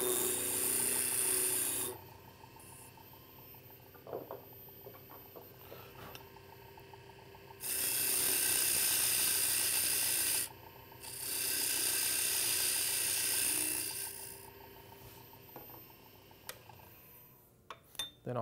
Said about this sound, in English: Just turn the end of it round,